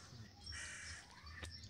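A crow caws faintly from a tree at a distance, with rough harsh calls over outdoor background noise.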